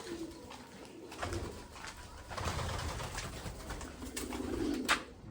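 Pigeons cooing inside a loft, soft low repeated coos with rustling and faint movement, distant and quiet with no voices.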